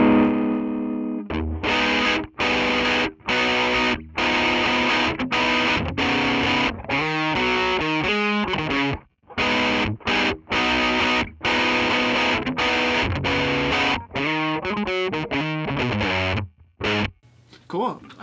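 An STL AmpHub amp simulator with the volume cranked pushes heavy distortion through a loud, dense electric guitar riff, with chopped rhythmic chords and brief gaps between bursts.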